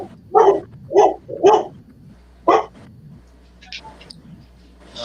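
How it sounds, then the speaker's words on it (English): A dog named Betty barks in short bursts, three quick woofs and then a fourth after a pause, close and fairly loud, followed by quieter rustling. "what's Betty barking at?"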